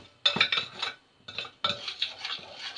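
Flatbread dough mixture being stirred in a bowl, with clinking and scraping in two bursts separated by a short pause, close and fairly quiet with no talking.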